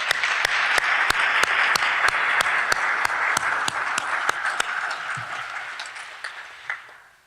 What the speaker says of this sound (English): I think we ought to give her a round of applause.